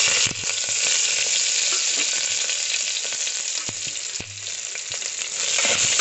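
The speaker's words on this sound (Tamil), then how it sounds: "இப்போ வெங்காயம் வதங்கிடுச்சு" Sliced onions and curry leaves fry in hot oil for Tamil-style rasam, a steady loud sizzle with occasional sharp crackles and stirring clinks running throughout, no voices.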